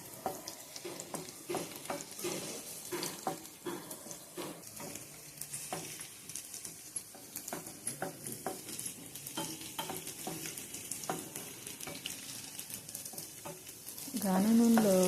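Food fries in cold-pressed groundnut oil as a spoon stirs and scrapes the pan in repeated clinks over a soft, steady sizzle, growing louder near the end.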